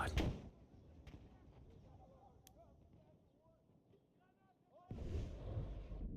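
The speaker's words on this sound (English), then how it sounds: "Oh, shotgun." Shotgun fire in the Battlefield 1 video game: a heavy blast at the start, a few sharper cracks, then a loud burst of gunfire near the end, with ambient battle noise between.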